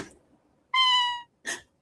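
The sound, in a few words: person imitating a cat meow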